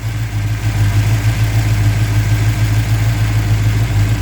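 A Mopar 340 V8 with electrical trouble and stalling after warm-up idles steadily, a loud, close, low rumbling drone that holds even throughout with no talk.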